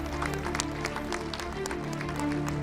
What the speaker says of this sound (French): allez-y, vous pouvez les applaudir dans la salle 2, salle 1